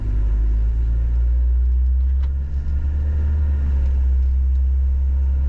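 A classic Range Rover engine drones as the car drives along, heard from on board as a heavy continuous low rumble with a brief dip and change around the middle as it shifts gear, with no one talking.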